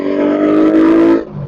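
A carbureted Suzuki Raider motorcycle engine, somewhat noisy with a worn tensioner, revs up close by, holding a rising buzzy tone for about a second before dropping back toward idle.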